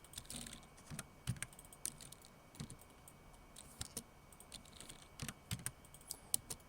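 Quiet, rapid clicking of a computer mouse and keyboard while modeling in SketchUp, with irregular bursts of soft taps and double clicks close by and no talking.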